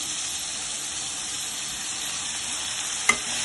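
Chicken being stirred in a hot frying pan, giving a steady, even sizzle throughout with a single brief clink of the utensil near the end.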